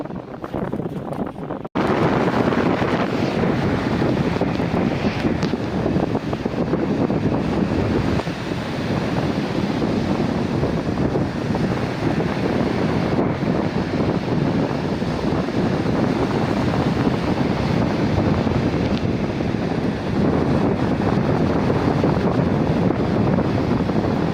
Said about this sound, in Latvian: vējš pūš ne pa jokam, visu pūš projām